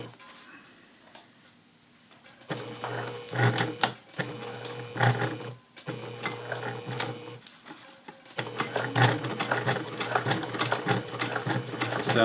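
A sewing machine stitches a flat felled seam on jeans in several bursts of rapid, rhythmic clatter, separated by short pauses, then a longer steady run at the end.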